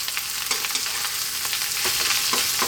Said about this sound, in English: About 4 minutes, frying away here.